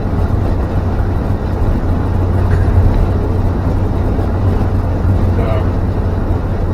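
A 1952 Ford F1 pickup cruises above 50 mph in overdrive. Its engine and road noise give a loud, steady in-cab drone with a low rumble that stays even from start to finish.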